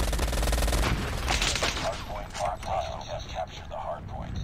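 Gunfire in the video game Banana Blaster, with a dense opening burst followed by scattered, rapid shots of mid loudness, mixed with game effects while players talk over it.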